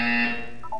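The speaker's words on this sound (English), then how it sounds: "When you hear the buzzer, look down at the floor." A loud, steady electronic buzzer from the video game Portal 2 sounds as one continuous tone that shifts slightly in pitch near the end, heard alone.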